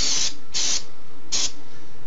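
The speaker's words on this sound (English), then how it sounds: "Once again, spraying it down." Aerosol cleaner sprayed onto parts of an ASR-10 synthesizer during repair: three close, loud, hissing bursts, each about a quarter second long, with short quiet gaps between them.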